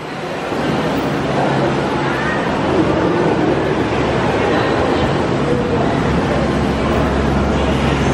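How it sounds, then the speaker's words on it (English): A teleférico gondola cable car in Santo Domingo gives a steady, loud mechanical rumble and hum while riding, continuous throughout with no clear voices on top. "A teleférico is a gondola system that transports passengers to multiple stations"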